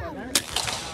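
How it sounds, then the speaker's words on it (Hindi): Toy gun fired at balloons at a fair: a single sharp crack followed by a softer snap, brief and fairly faint. "वो जो गोलियां गुब्बारों में मार के हाँ वो जो गुब्बारे मार के ओ गन मार के"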